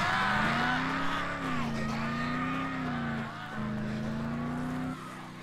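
A car in the video game Dead Island Riptide drives along with a steady, droning engine hum. The pitch rises and dips slightly, and the sound stays up close and fairly loud throughout.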